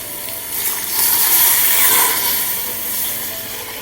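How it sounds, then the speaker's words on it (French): Water poured into a pot over couscous broth ingredients such as salt, a cinnamon stick and saffron, giving a steady, rushing hiss that swells in the middle and then eases off, with no talking. "On va couvrir d'eau."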